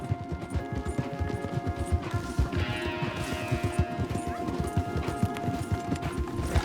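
Several horses gallop in Red Dead Redemption in a fast, steady drumming of hooves, with a brief whinny and a crash partway through. The sound is moderately loud and continuous.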